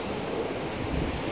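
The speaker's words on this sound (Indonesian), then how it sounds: "Wow, ombaknya ngeri banget, Bos, di atas batu kita." Ocean waves surge and break against rocks below a cliff where people are fishing, a steady loud wash of surf mixed with wind buffeting the microphone.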